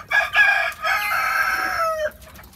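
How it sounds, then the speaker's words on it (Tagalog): Quail kept in a small enclosure give loud, harsh calls close by, with a short burst followed by a sustained cry of about two seconds that cuts off abruptly. "yung mga pugo kahapon na binili namin"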